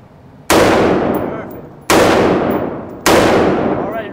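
An HK G36 rifle firing single shots: three loud, sharp reports about a second and a half apart, each followed by a long decaying ring and echo, close and dominant, with no talk.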